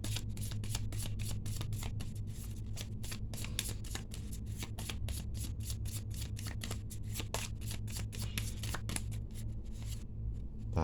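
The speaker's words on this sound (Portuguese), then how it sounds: "Agora vou embaralhar o tarô e vou tirar um arcano ali também." Tarot cards are shuffled by hand in quick repeated riffles, a steady run of crisp flicking snaps close to the microphone over a low background hum, with no talking.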